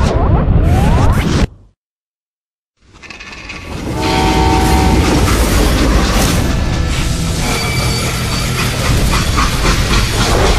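A loud, heavy rumble of a rolling freight train in a video game with clanking, grinding metal, briefly cut to silence before the roar swells back and continues steadily.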